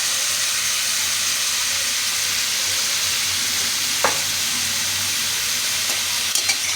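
Tomatoes with salt and crushed garlic frying in a pan at home, a steady broadband sizzle running the whole time with a brief stir or scrape partway through and a few small crackles near the end.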